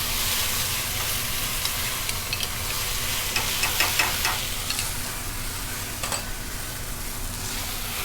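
Red wine sauce of veal stock, bay leaves and shallots sizzling and frying steadily in a hot restaurant pan as the alcohol burns off, with soft stirring clatter and a few brighter crackles partway through, no one talking.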